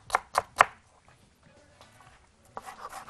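A knife chopping onion on a cutting board in a home kitchen, three crisp, close chops in quick succession, then faint scraping and a softer burst of cutting noise near the end.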